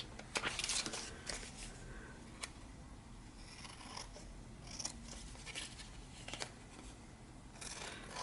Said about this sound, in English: let's get this cut out.